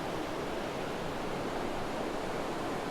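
Steady ocean surf at Trinidad harbor, California, on an overcast day: a continuous broadband wash of breaking waves, fairly loud and even throughout, with no voices.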